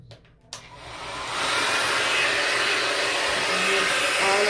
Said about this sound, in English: I'm gonna take my blow dryer.